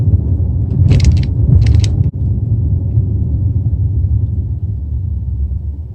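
A Hyundai Santa Fe 2.0L turbo rolls along a gravelly dead-end road, a steady low cabin rumble with a couple of brief bumps and rattles early on, no talking.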